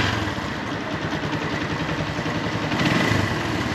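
A Keeway Cafe Racer 152 motorcycle engine idles steadily with a fine mechanical ticking rattle, suspected timing chain or tensioner noise, heard close and alone with no talk.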